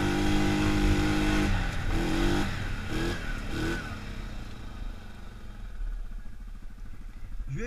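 A Yamaha Grizzly ATV engine labours up a steep hill, with a steady close motor drone, a few rising rev surges and then a lower, rougher settling tone, heard without talk.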